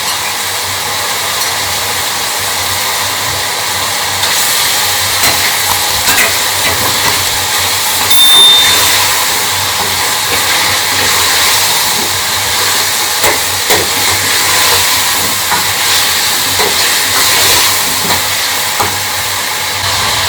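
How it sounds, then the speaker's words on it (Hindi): Chunks of meat hit a hot frying pan and sizzle, giving a loud, steady, close hiss that runs unbroken for about twenty seconds with no talking. "इसमें मैं गोश्त डाल रही हूँ।"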